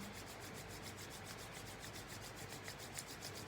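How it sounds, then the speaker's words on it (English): Palms rubbed together gently and steadily during a guided meditation, giving a soft, continuous, close-up brushing friction with an even rhythm and no talk. "let's gently rub our palms together, making it nice and warm"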